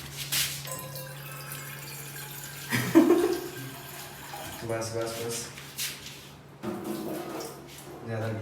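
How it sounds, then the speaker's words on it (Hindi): Water is poured into a pot while making Maggi noodles, a splashing, trickling pour that starts and stops under someone talking in Hindi. "एक बार मैं पानी डाल दूँ।"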